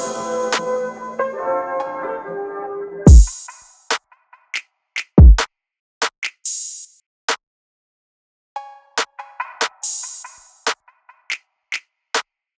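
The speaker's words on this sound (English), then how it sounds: "So I'm just gonna play all the perks by itself." A drill-beat percussion loop of cowbells, rims, open hi-hats and gunshot hits plays alone: sharp isolated clicks and rimshots in a sparse syncopated pattern, with two deep pitched drops and short bursts of ringing metallic hits.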